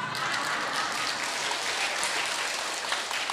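Listeners clapping during a dharma talk at a Buddhist temple, a continuous even patter of applause from a gathered audience, moderately loud and without talk over it.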